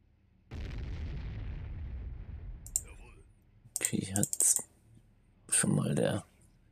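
Cannon fire in the WW2 strategy game Sudden Strike, a sustained rumbling blast followed by several sharp bursts and clicking impacts, loud and close, with brief gaps of near silence between them.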